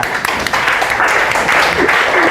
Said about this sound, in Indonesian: Tepuk tangan dulu buat Najwa